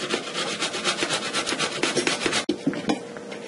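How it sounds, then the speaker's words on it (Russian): Boiled carrot rubbed quickly against a coarse grater, giving a fast, even rasping rhythm of close scraping strokes with a brief pause near the end before it resumes. "Вареную морковь трем на крупной терке."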